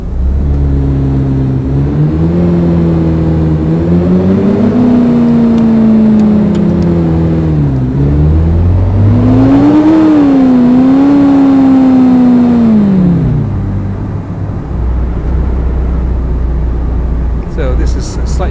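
A car engine in a city car driving simulator game on a country road accelerates through gears, its droning tone climbing and dropping in repeated pitch sweeps, loud and steady, with a voice speaking over it.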